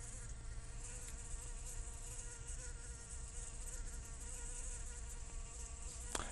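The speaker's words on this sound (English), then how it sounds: "you can't really calm that bee down" A bee buzzes steadily around a mercury vapor light at night, a close, continuous droning hum with a faint electrical whine, no voices.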